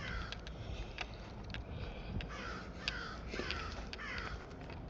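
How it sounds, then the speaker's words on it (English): A crow caws several times outdoors during a quiet walk, with repeated calls at moderate distance over a steady background hiss and no talking. "Maybe a crow."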